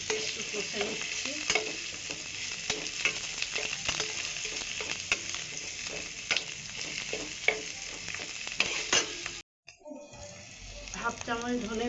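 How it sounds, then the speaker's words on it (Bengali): Cumin paste and ginger paste frying in a pan as they are stirred, a close steady sizzle broken by repeated scraping and knocking of the spoon, with a brief silence and then running water near the end. "জিরে বাটা, আদা বাটা দিয়ে একটু কষে নিচ্ছি।"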